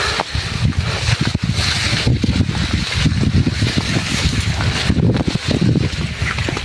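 Strong wind buffets the microphone in continuous heavy gusts, a rumbling roar that barely lets up.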